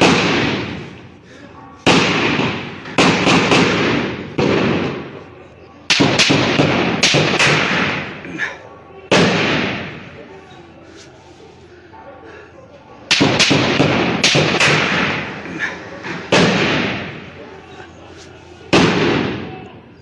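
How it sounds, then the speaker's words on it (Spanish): Volleys of gunfire exchanged from both sides near houses during a shootout in Xoxtla, coming in loud, sharp bursts of rapid cracks separated by brief lulls, with voices audible in between. "Se escuchan las descargas cerca de los domicilios. Al por mayor disparan desde ambos frentes."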